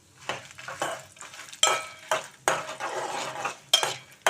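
About twenty dried red chillies frying with coriander seeds in a pan, with a faint sizzle under repeated scraping and clinking as a utensil stirs the spices against the metal.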